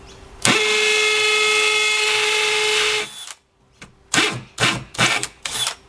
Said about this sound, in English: Now we'll just drill a pilot hole first.